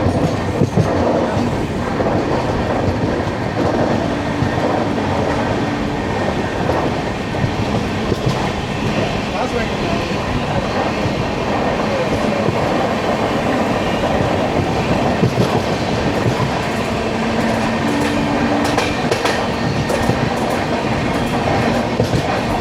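The Bangalore–Madurai Vande Bharat express thunders past at close range, a loud sustained rush with rhythmic clickety-clack of wheels over rail joints and brief tonal squeals, heard alone without talk.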